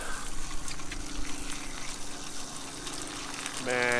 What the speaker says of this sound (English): here you have a shower